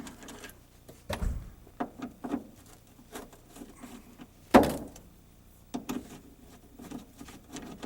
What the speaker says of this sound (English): now we're going to try to remove some door hinge screws here